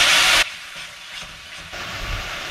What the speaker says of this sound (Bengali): অ্যাড করে দিচ্ছি একটু টমেটো পিউরে, 2 চামচ মতো, আর একটু ভালো করে কষিয়ে নিচ্ছি।